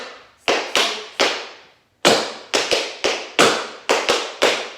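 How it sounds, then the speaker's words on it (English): Tap shoes striking a hard floor in a quick stamp-and-step rhythm, a series of sharp, bright clicks and thuds in short bursts, close and solo with no talking. "So you stamp your right foot, your left foot steps back, and then you spank, step your right foot back."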